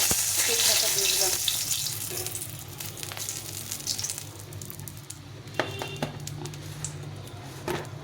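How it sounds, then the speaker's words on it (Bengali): Dry red chillies fry in hot mustard oil in a home kitchen, a loud, steady sizzle that is strongest at first and then settles into softer crackling with occasional pops and clinks. "সর্ষের তেলে রান্না করব এখন শুকনো লঙ্কা"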